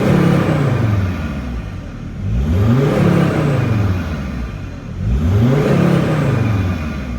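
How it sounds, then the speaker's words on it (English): A Mercedes Sprinter van's engine revs up and down in three rising-and-falling sweeps, loud and close, during a turbo actuator test for an underboost fault. "it's revving fine"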